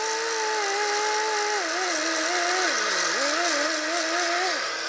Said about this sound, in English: or a sanding disc, which is what I'm going to use.